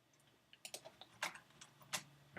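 Fingers tap a computer keyboard in a quiet room, a dozen or so soft, faint clicks in an uneven quick rhythm, with no voice present.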